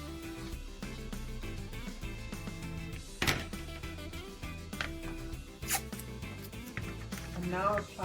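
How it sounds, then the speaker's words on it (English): Masking tape pulled off the roll and pressed onto the seam of a cardboard hat box gives a few short, loud ripping zips over steady background music. "Apply masking tape onto the join or onto the seam."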